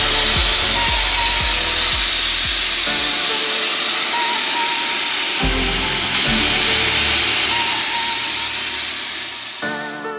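Timber beams in a fire-damaged cottage are sandblasted with a loud, constant hissing blast of grit under compressed air, broken by thudding knocks and shifts in tone, with no talking.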